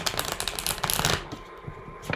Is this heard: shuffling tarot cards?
yes